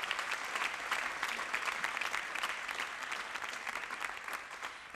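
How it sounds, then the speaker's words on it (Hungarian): An audience at a folk dance gala for Nobel laureates and talented students claps in steady, dense applause throughout, fairly loud and sustained with no speech over it. "ezért egy taps nekik is jár innen a távolból"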